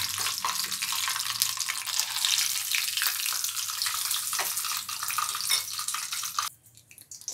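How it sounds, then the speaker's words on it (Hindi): A loud, crackling sizzle of hot tempering oil poured onto coconut chutney goes on steadily for several seconds, then cuts off abruptly into quiet. "और अब हम इस तड़के को डालेंगे अपनी चटनी के ऊपर।"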